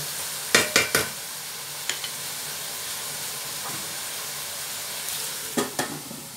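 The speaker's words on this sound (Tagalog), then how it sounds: "medyo ma-fry-fry siya ng ano, outer part ng chicken." Chicken frying in a pan for old-style adobo, a steady soft sizzle with a few sharp utensil stirs and scrapes in quick clusters, close by with no talk.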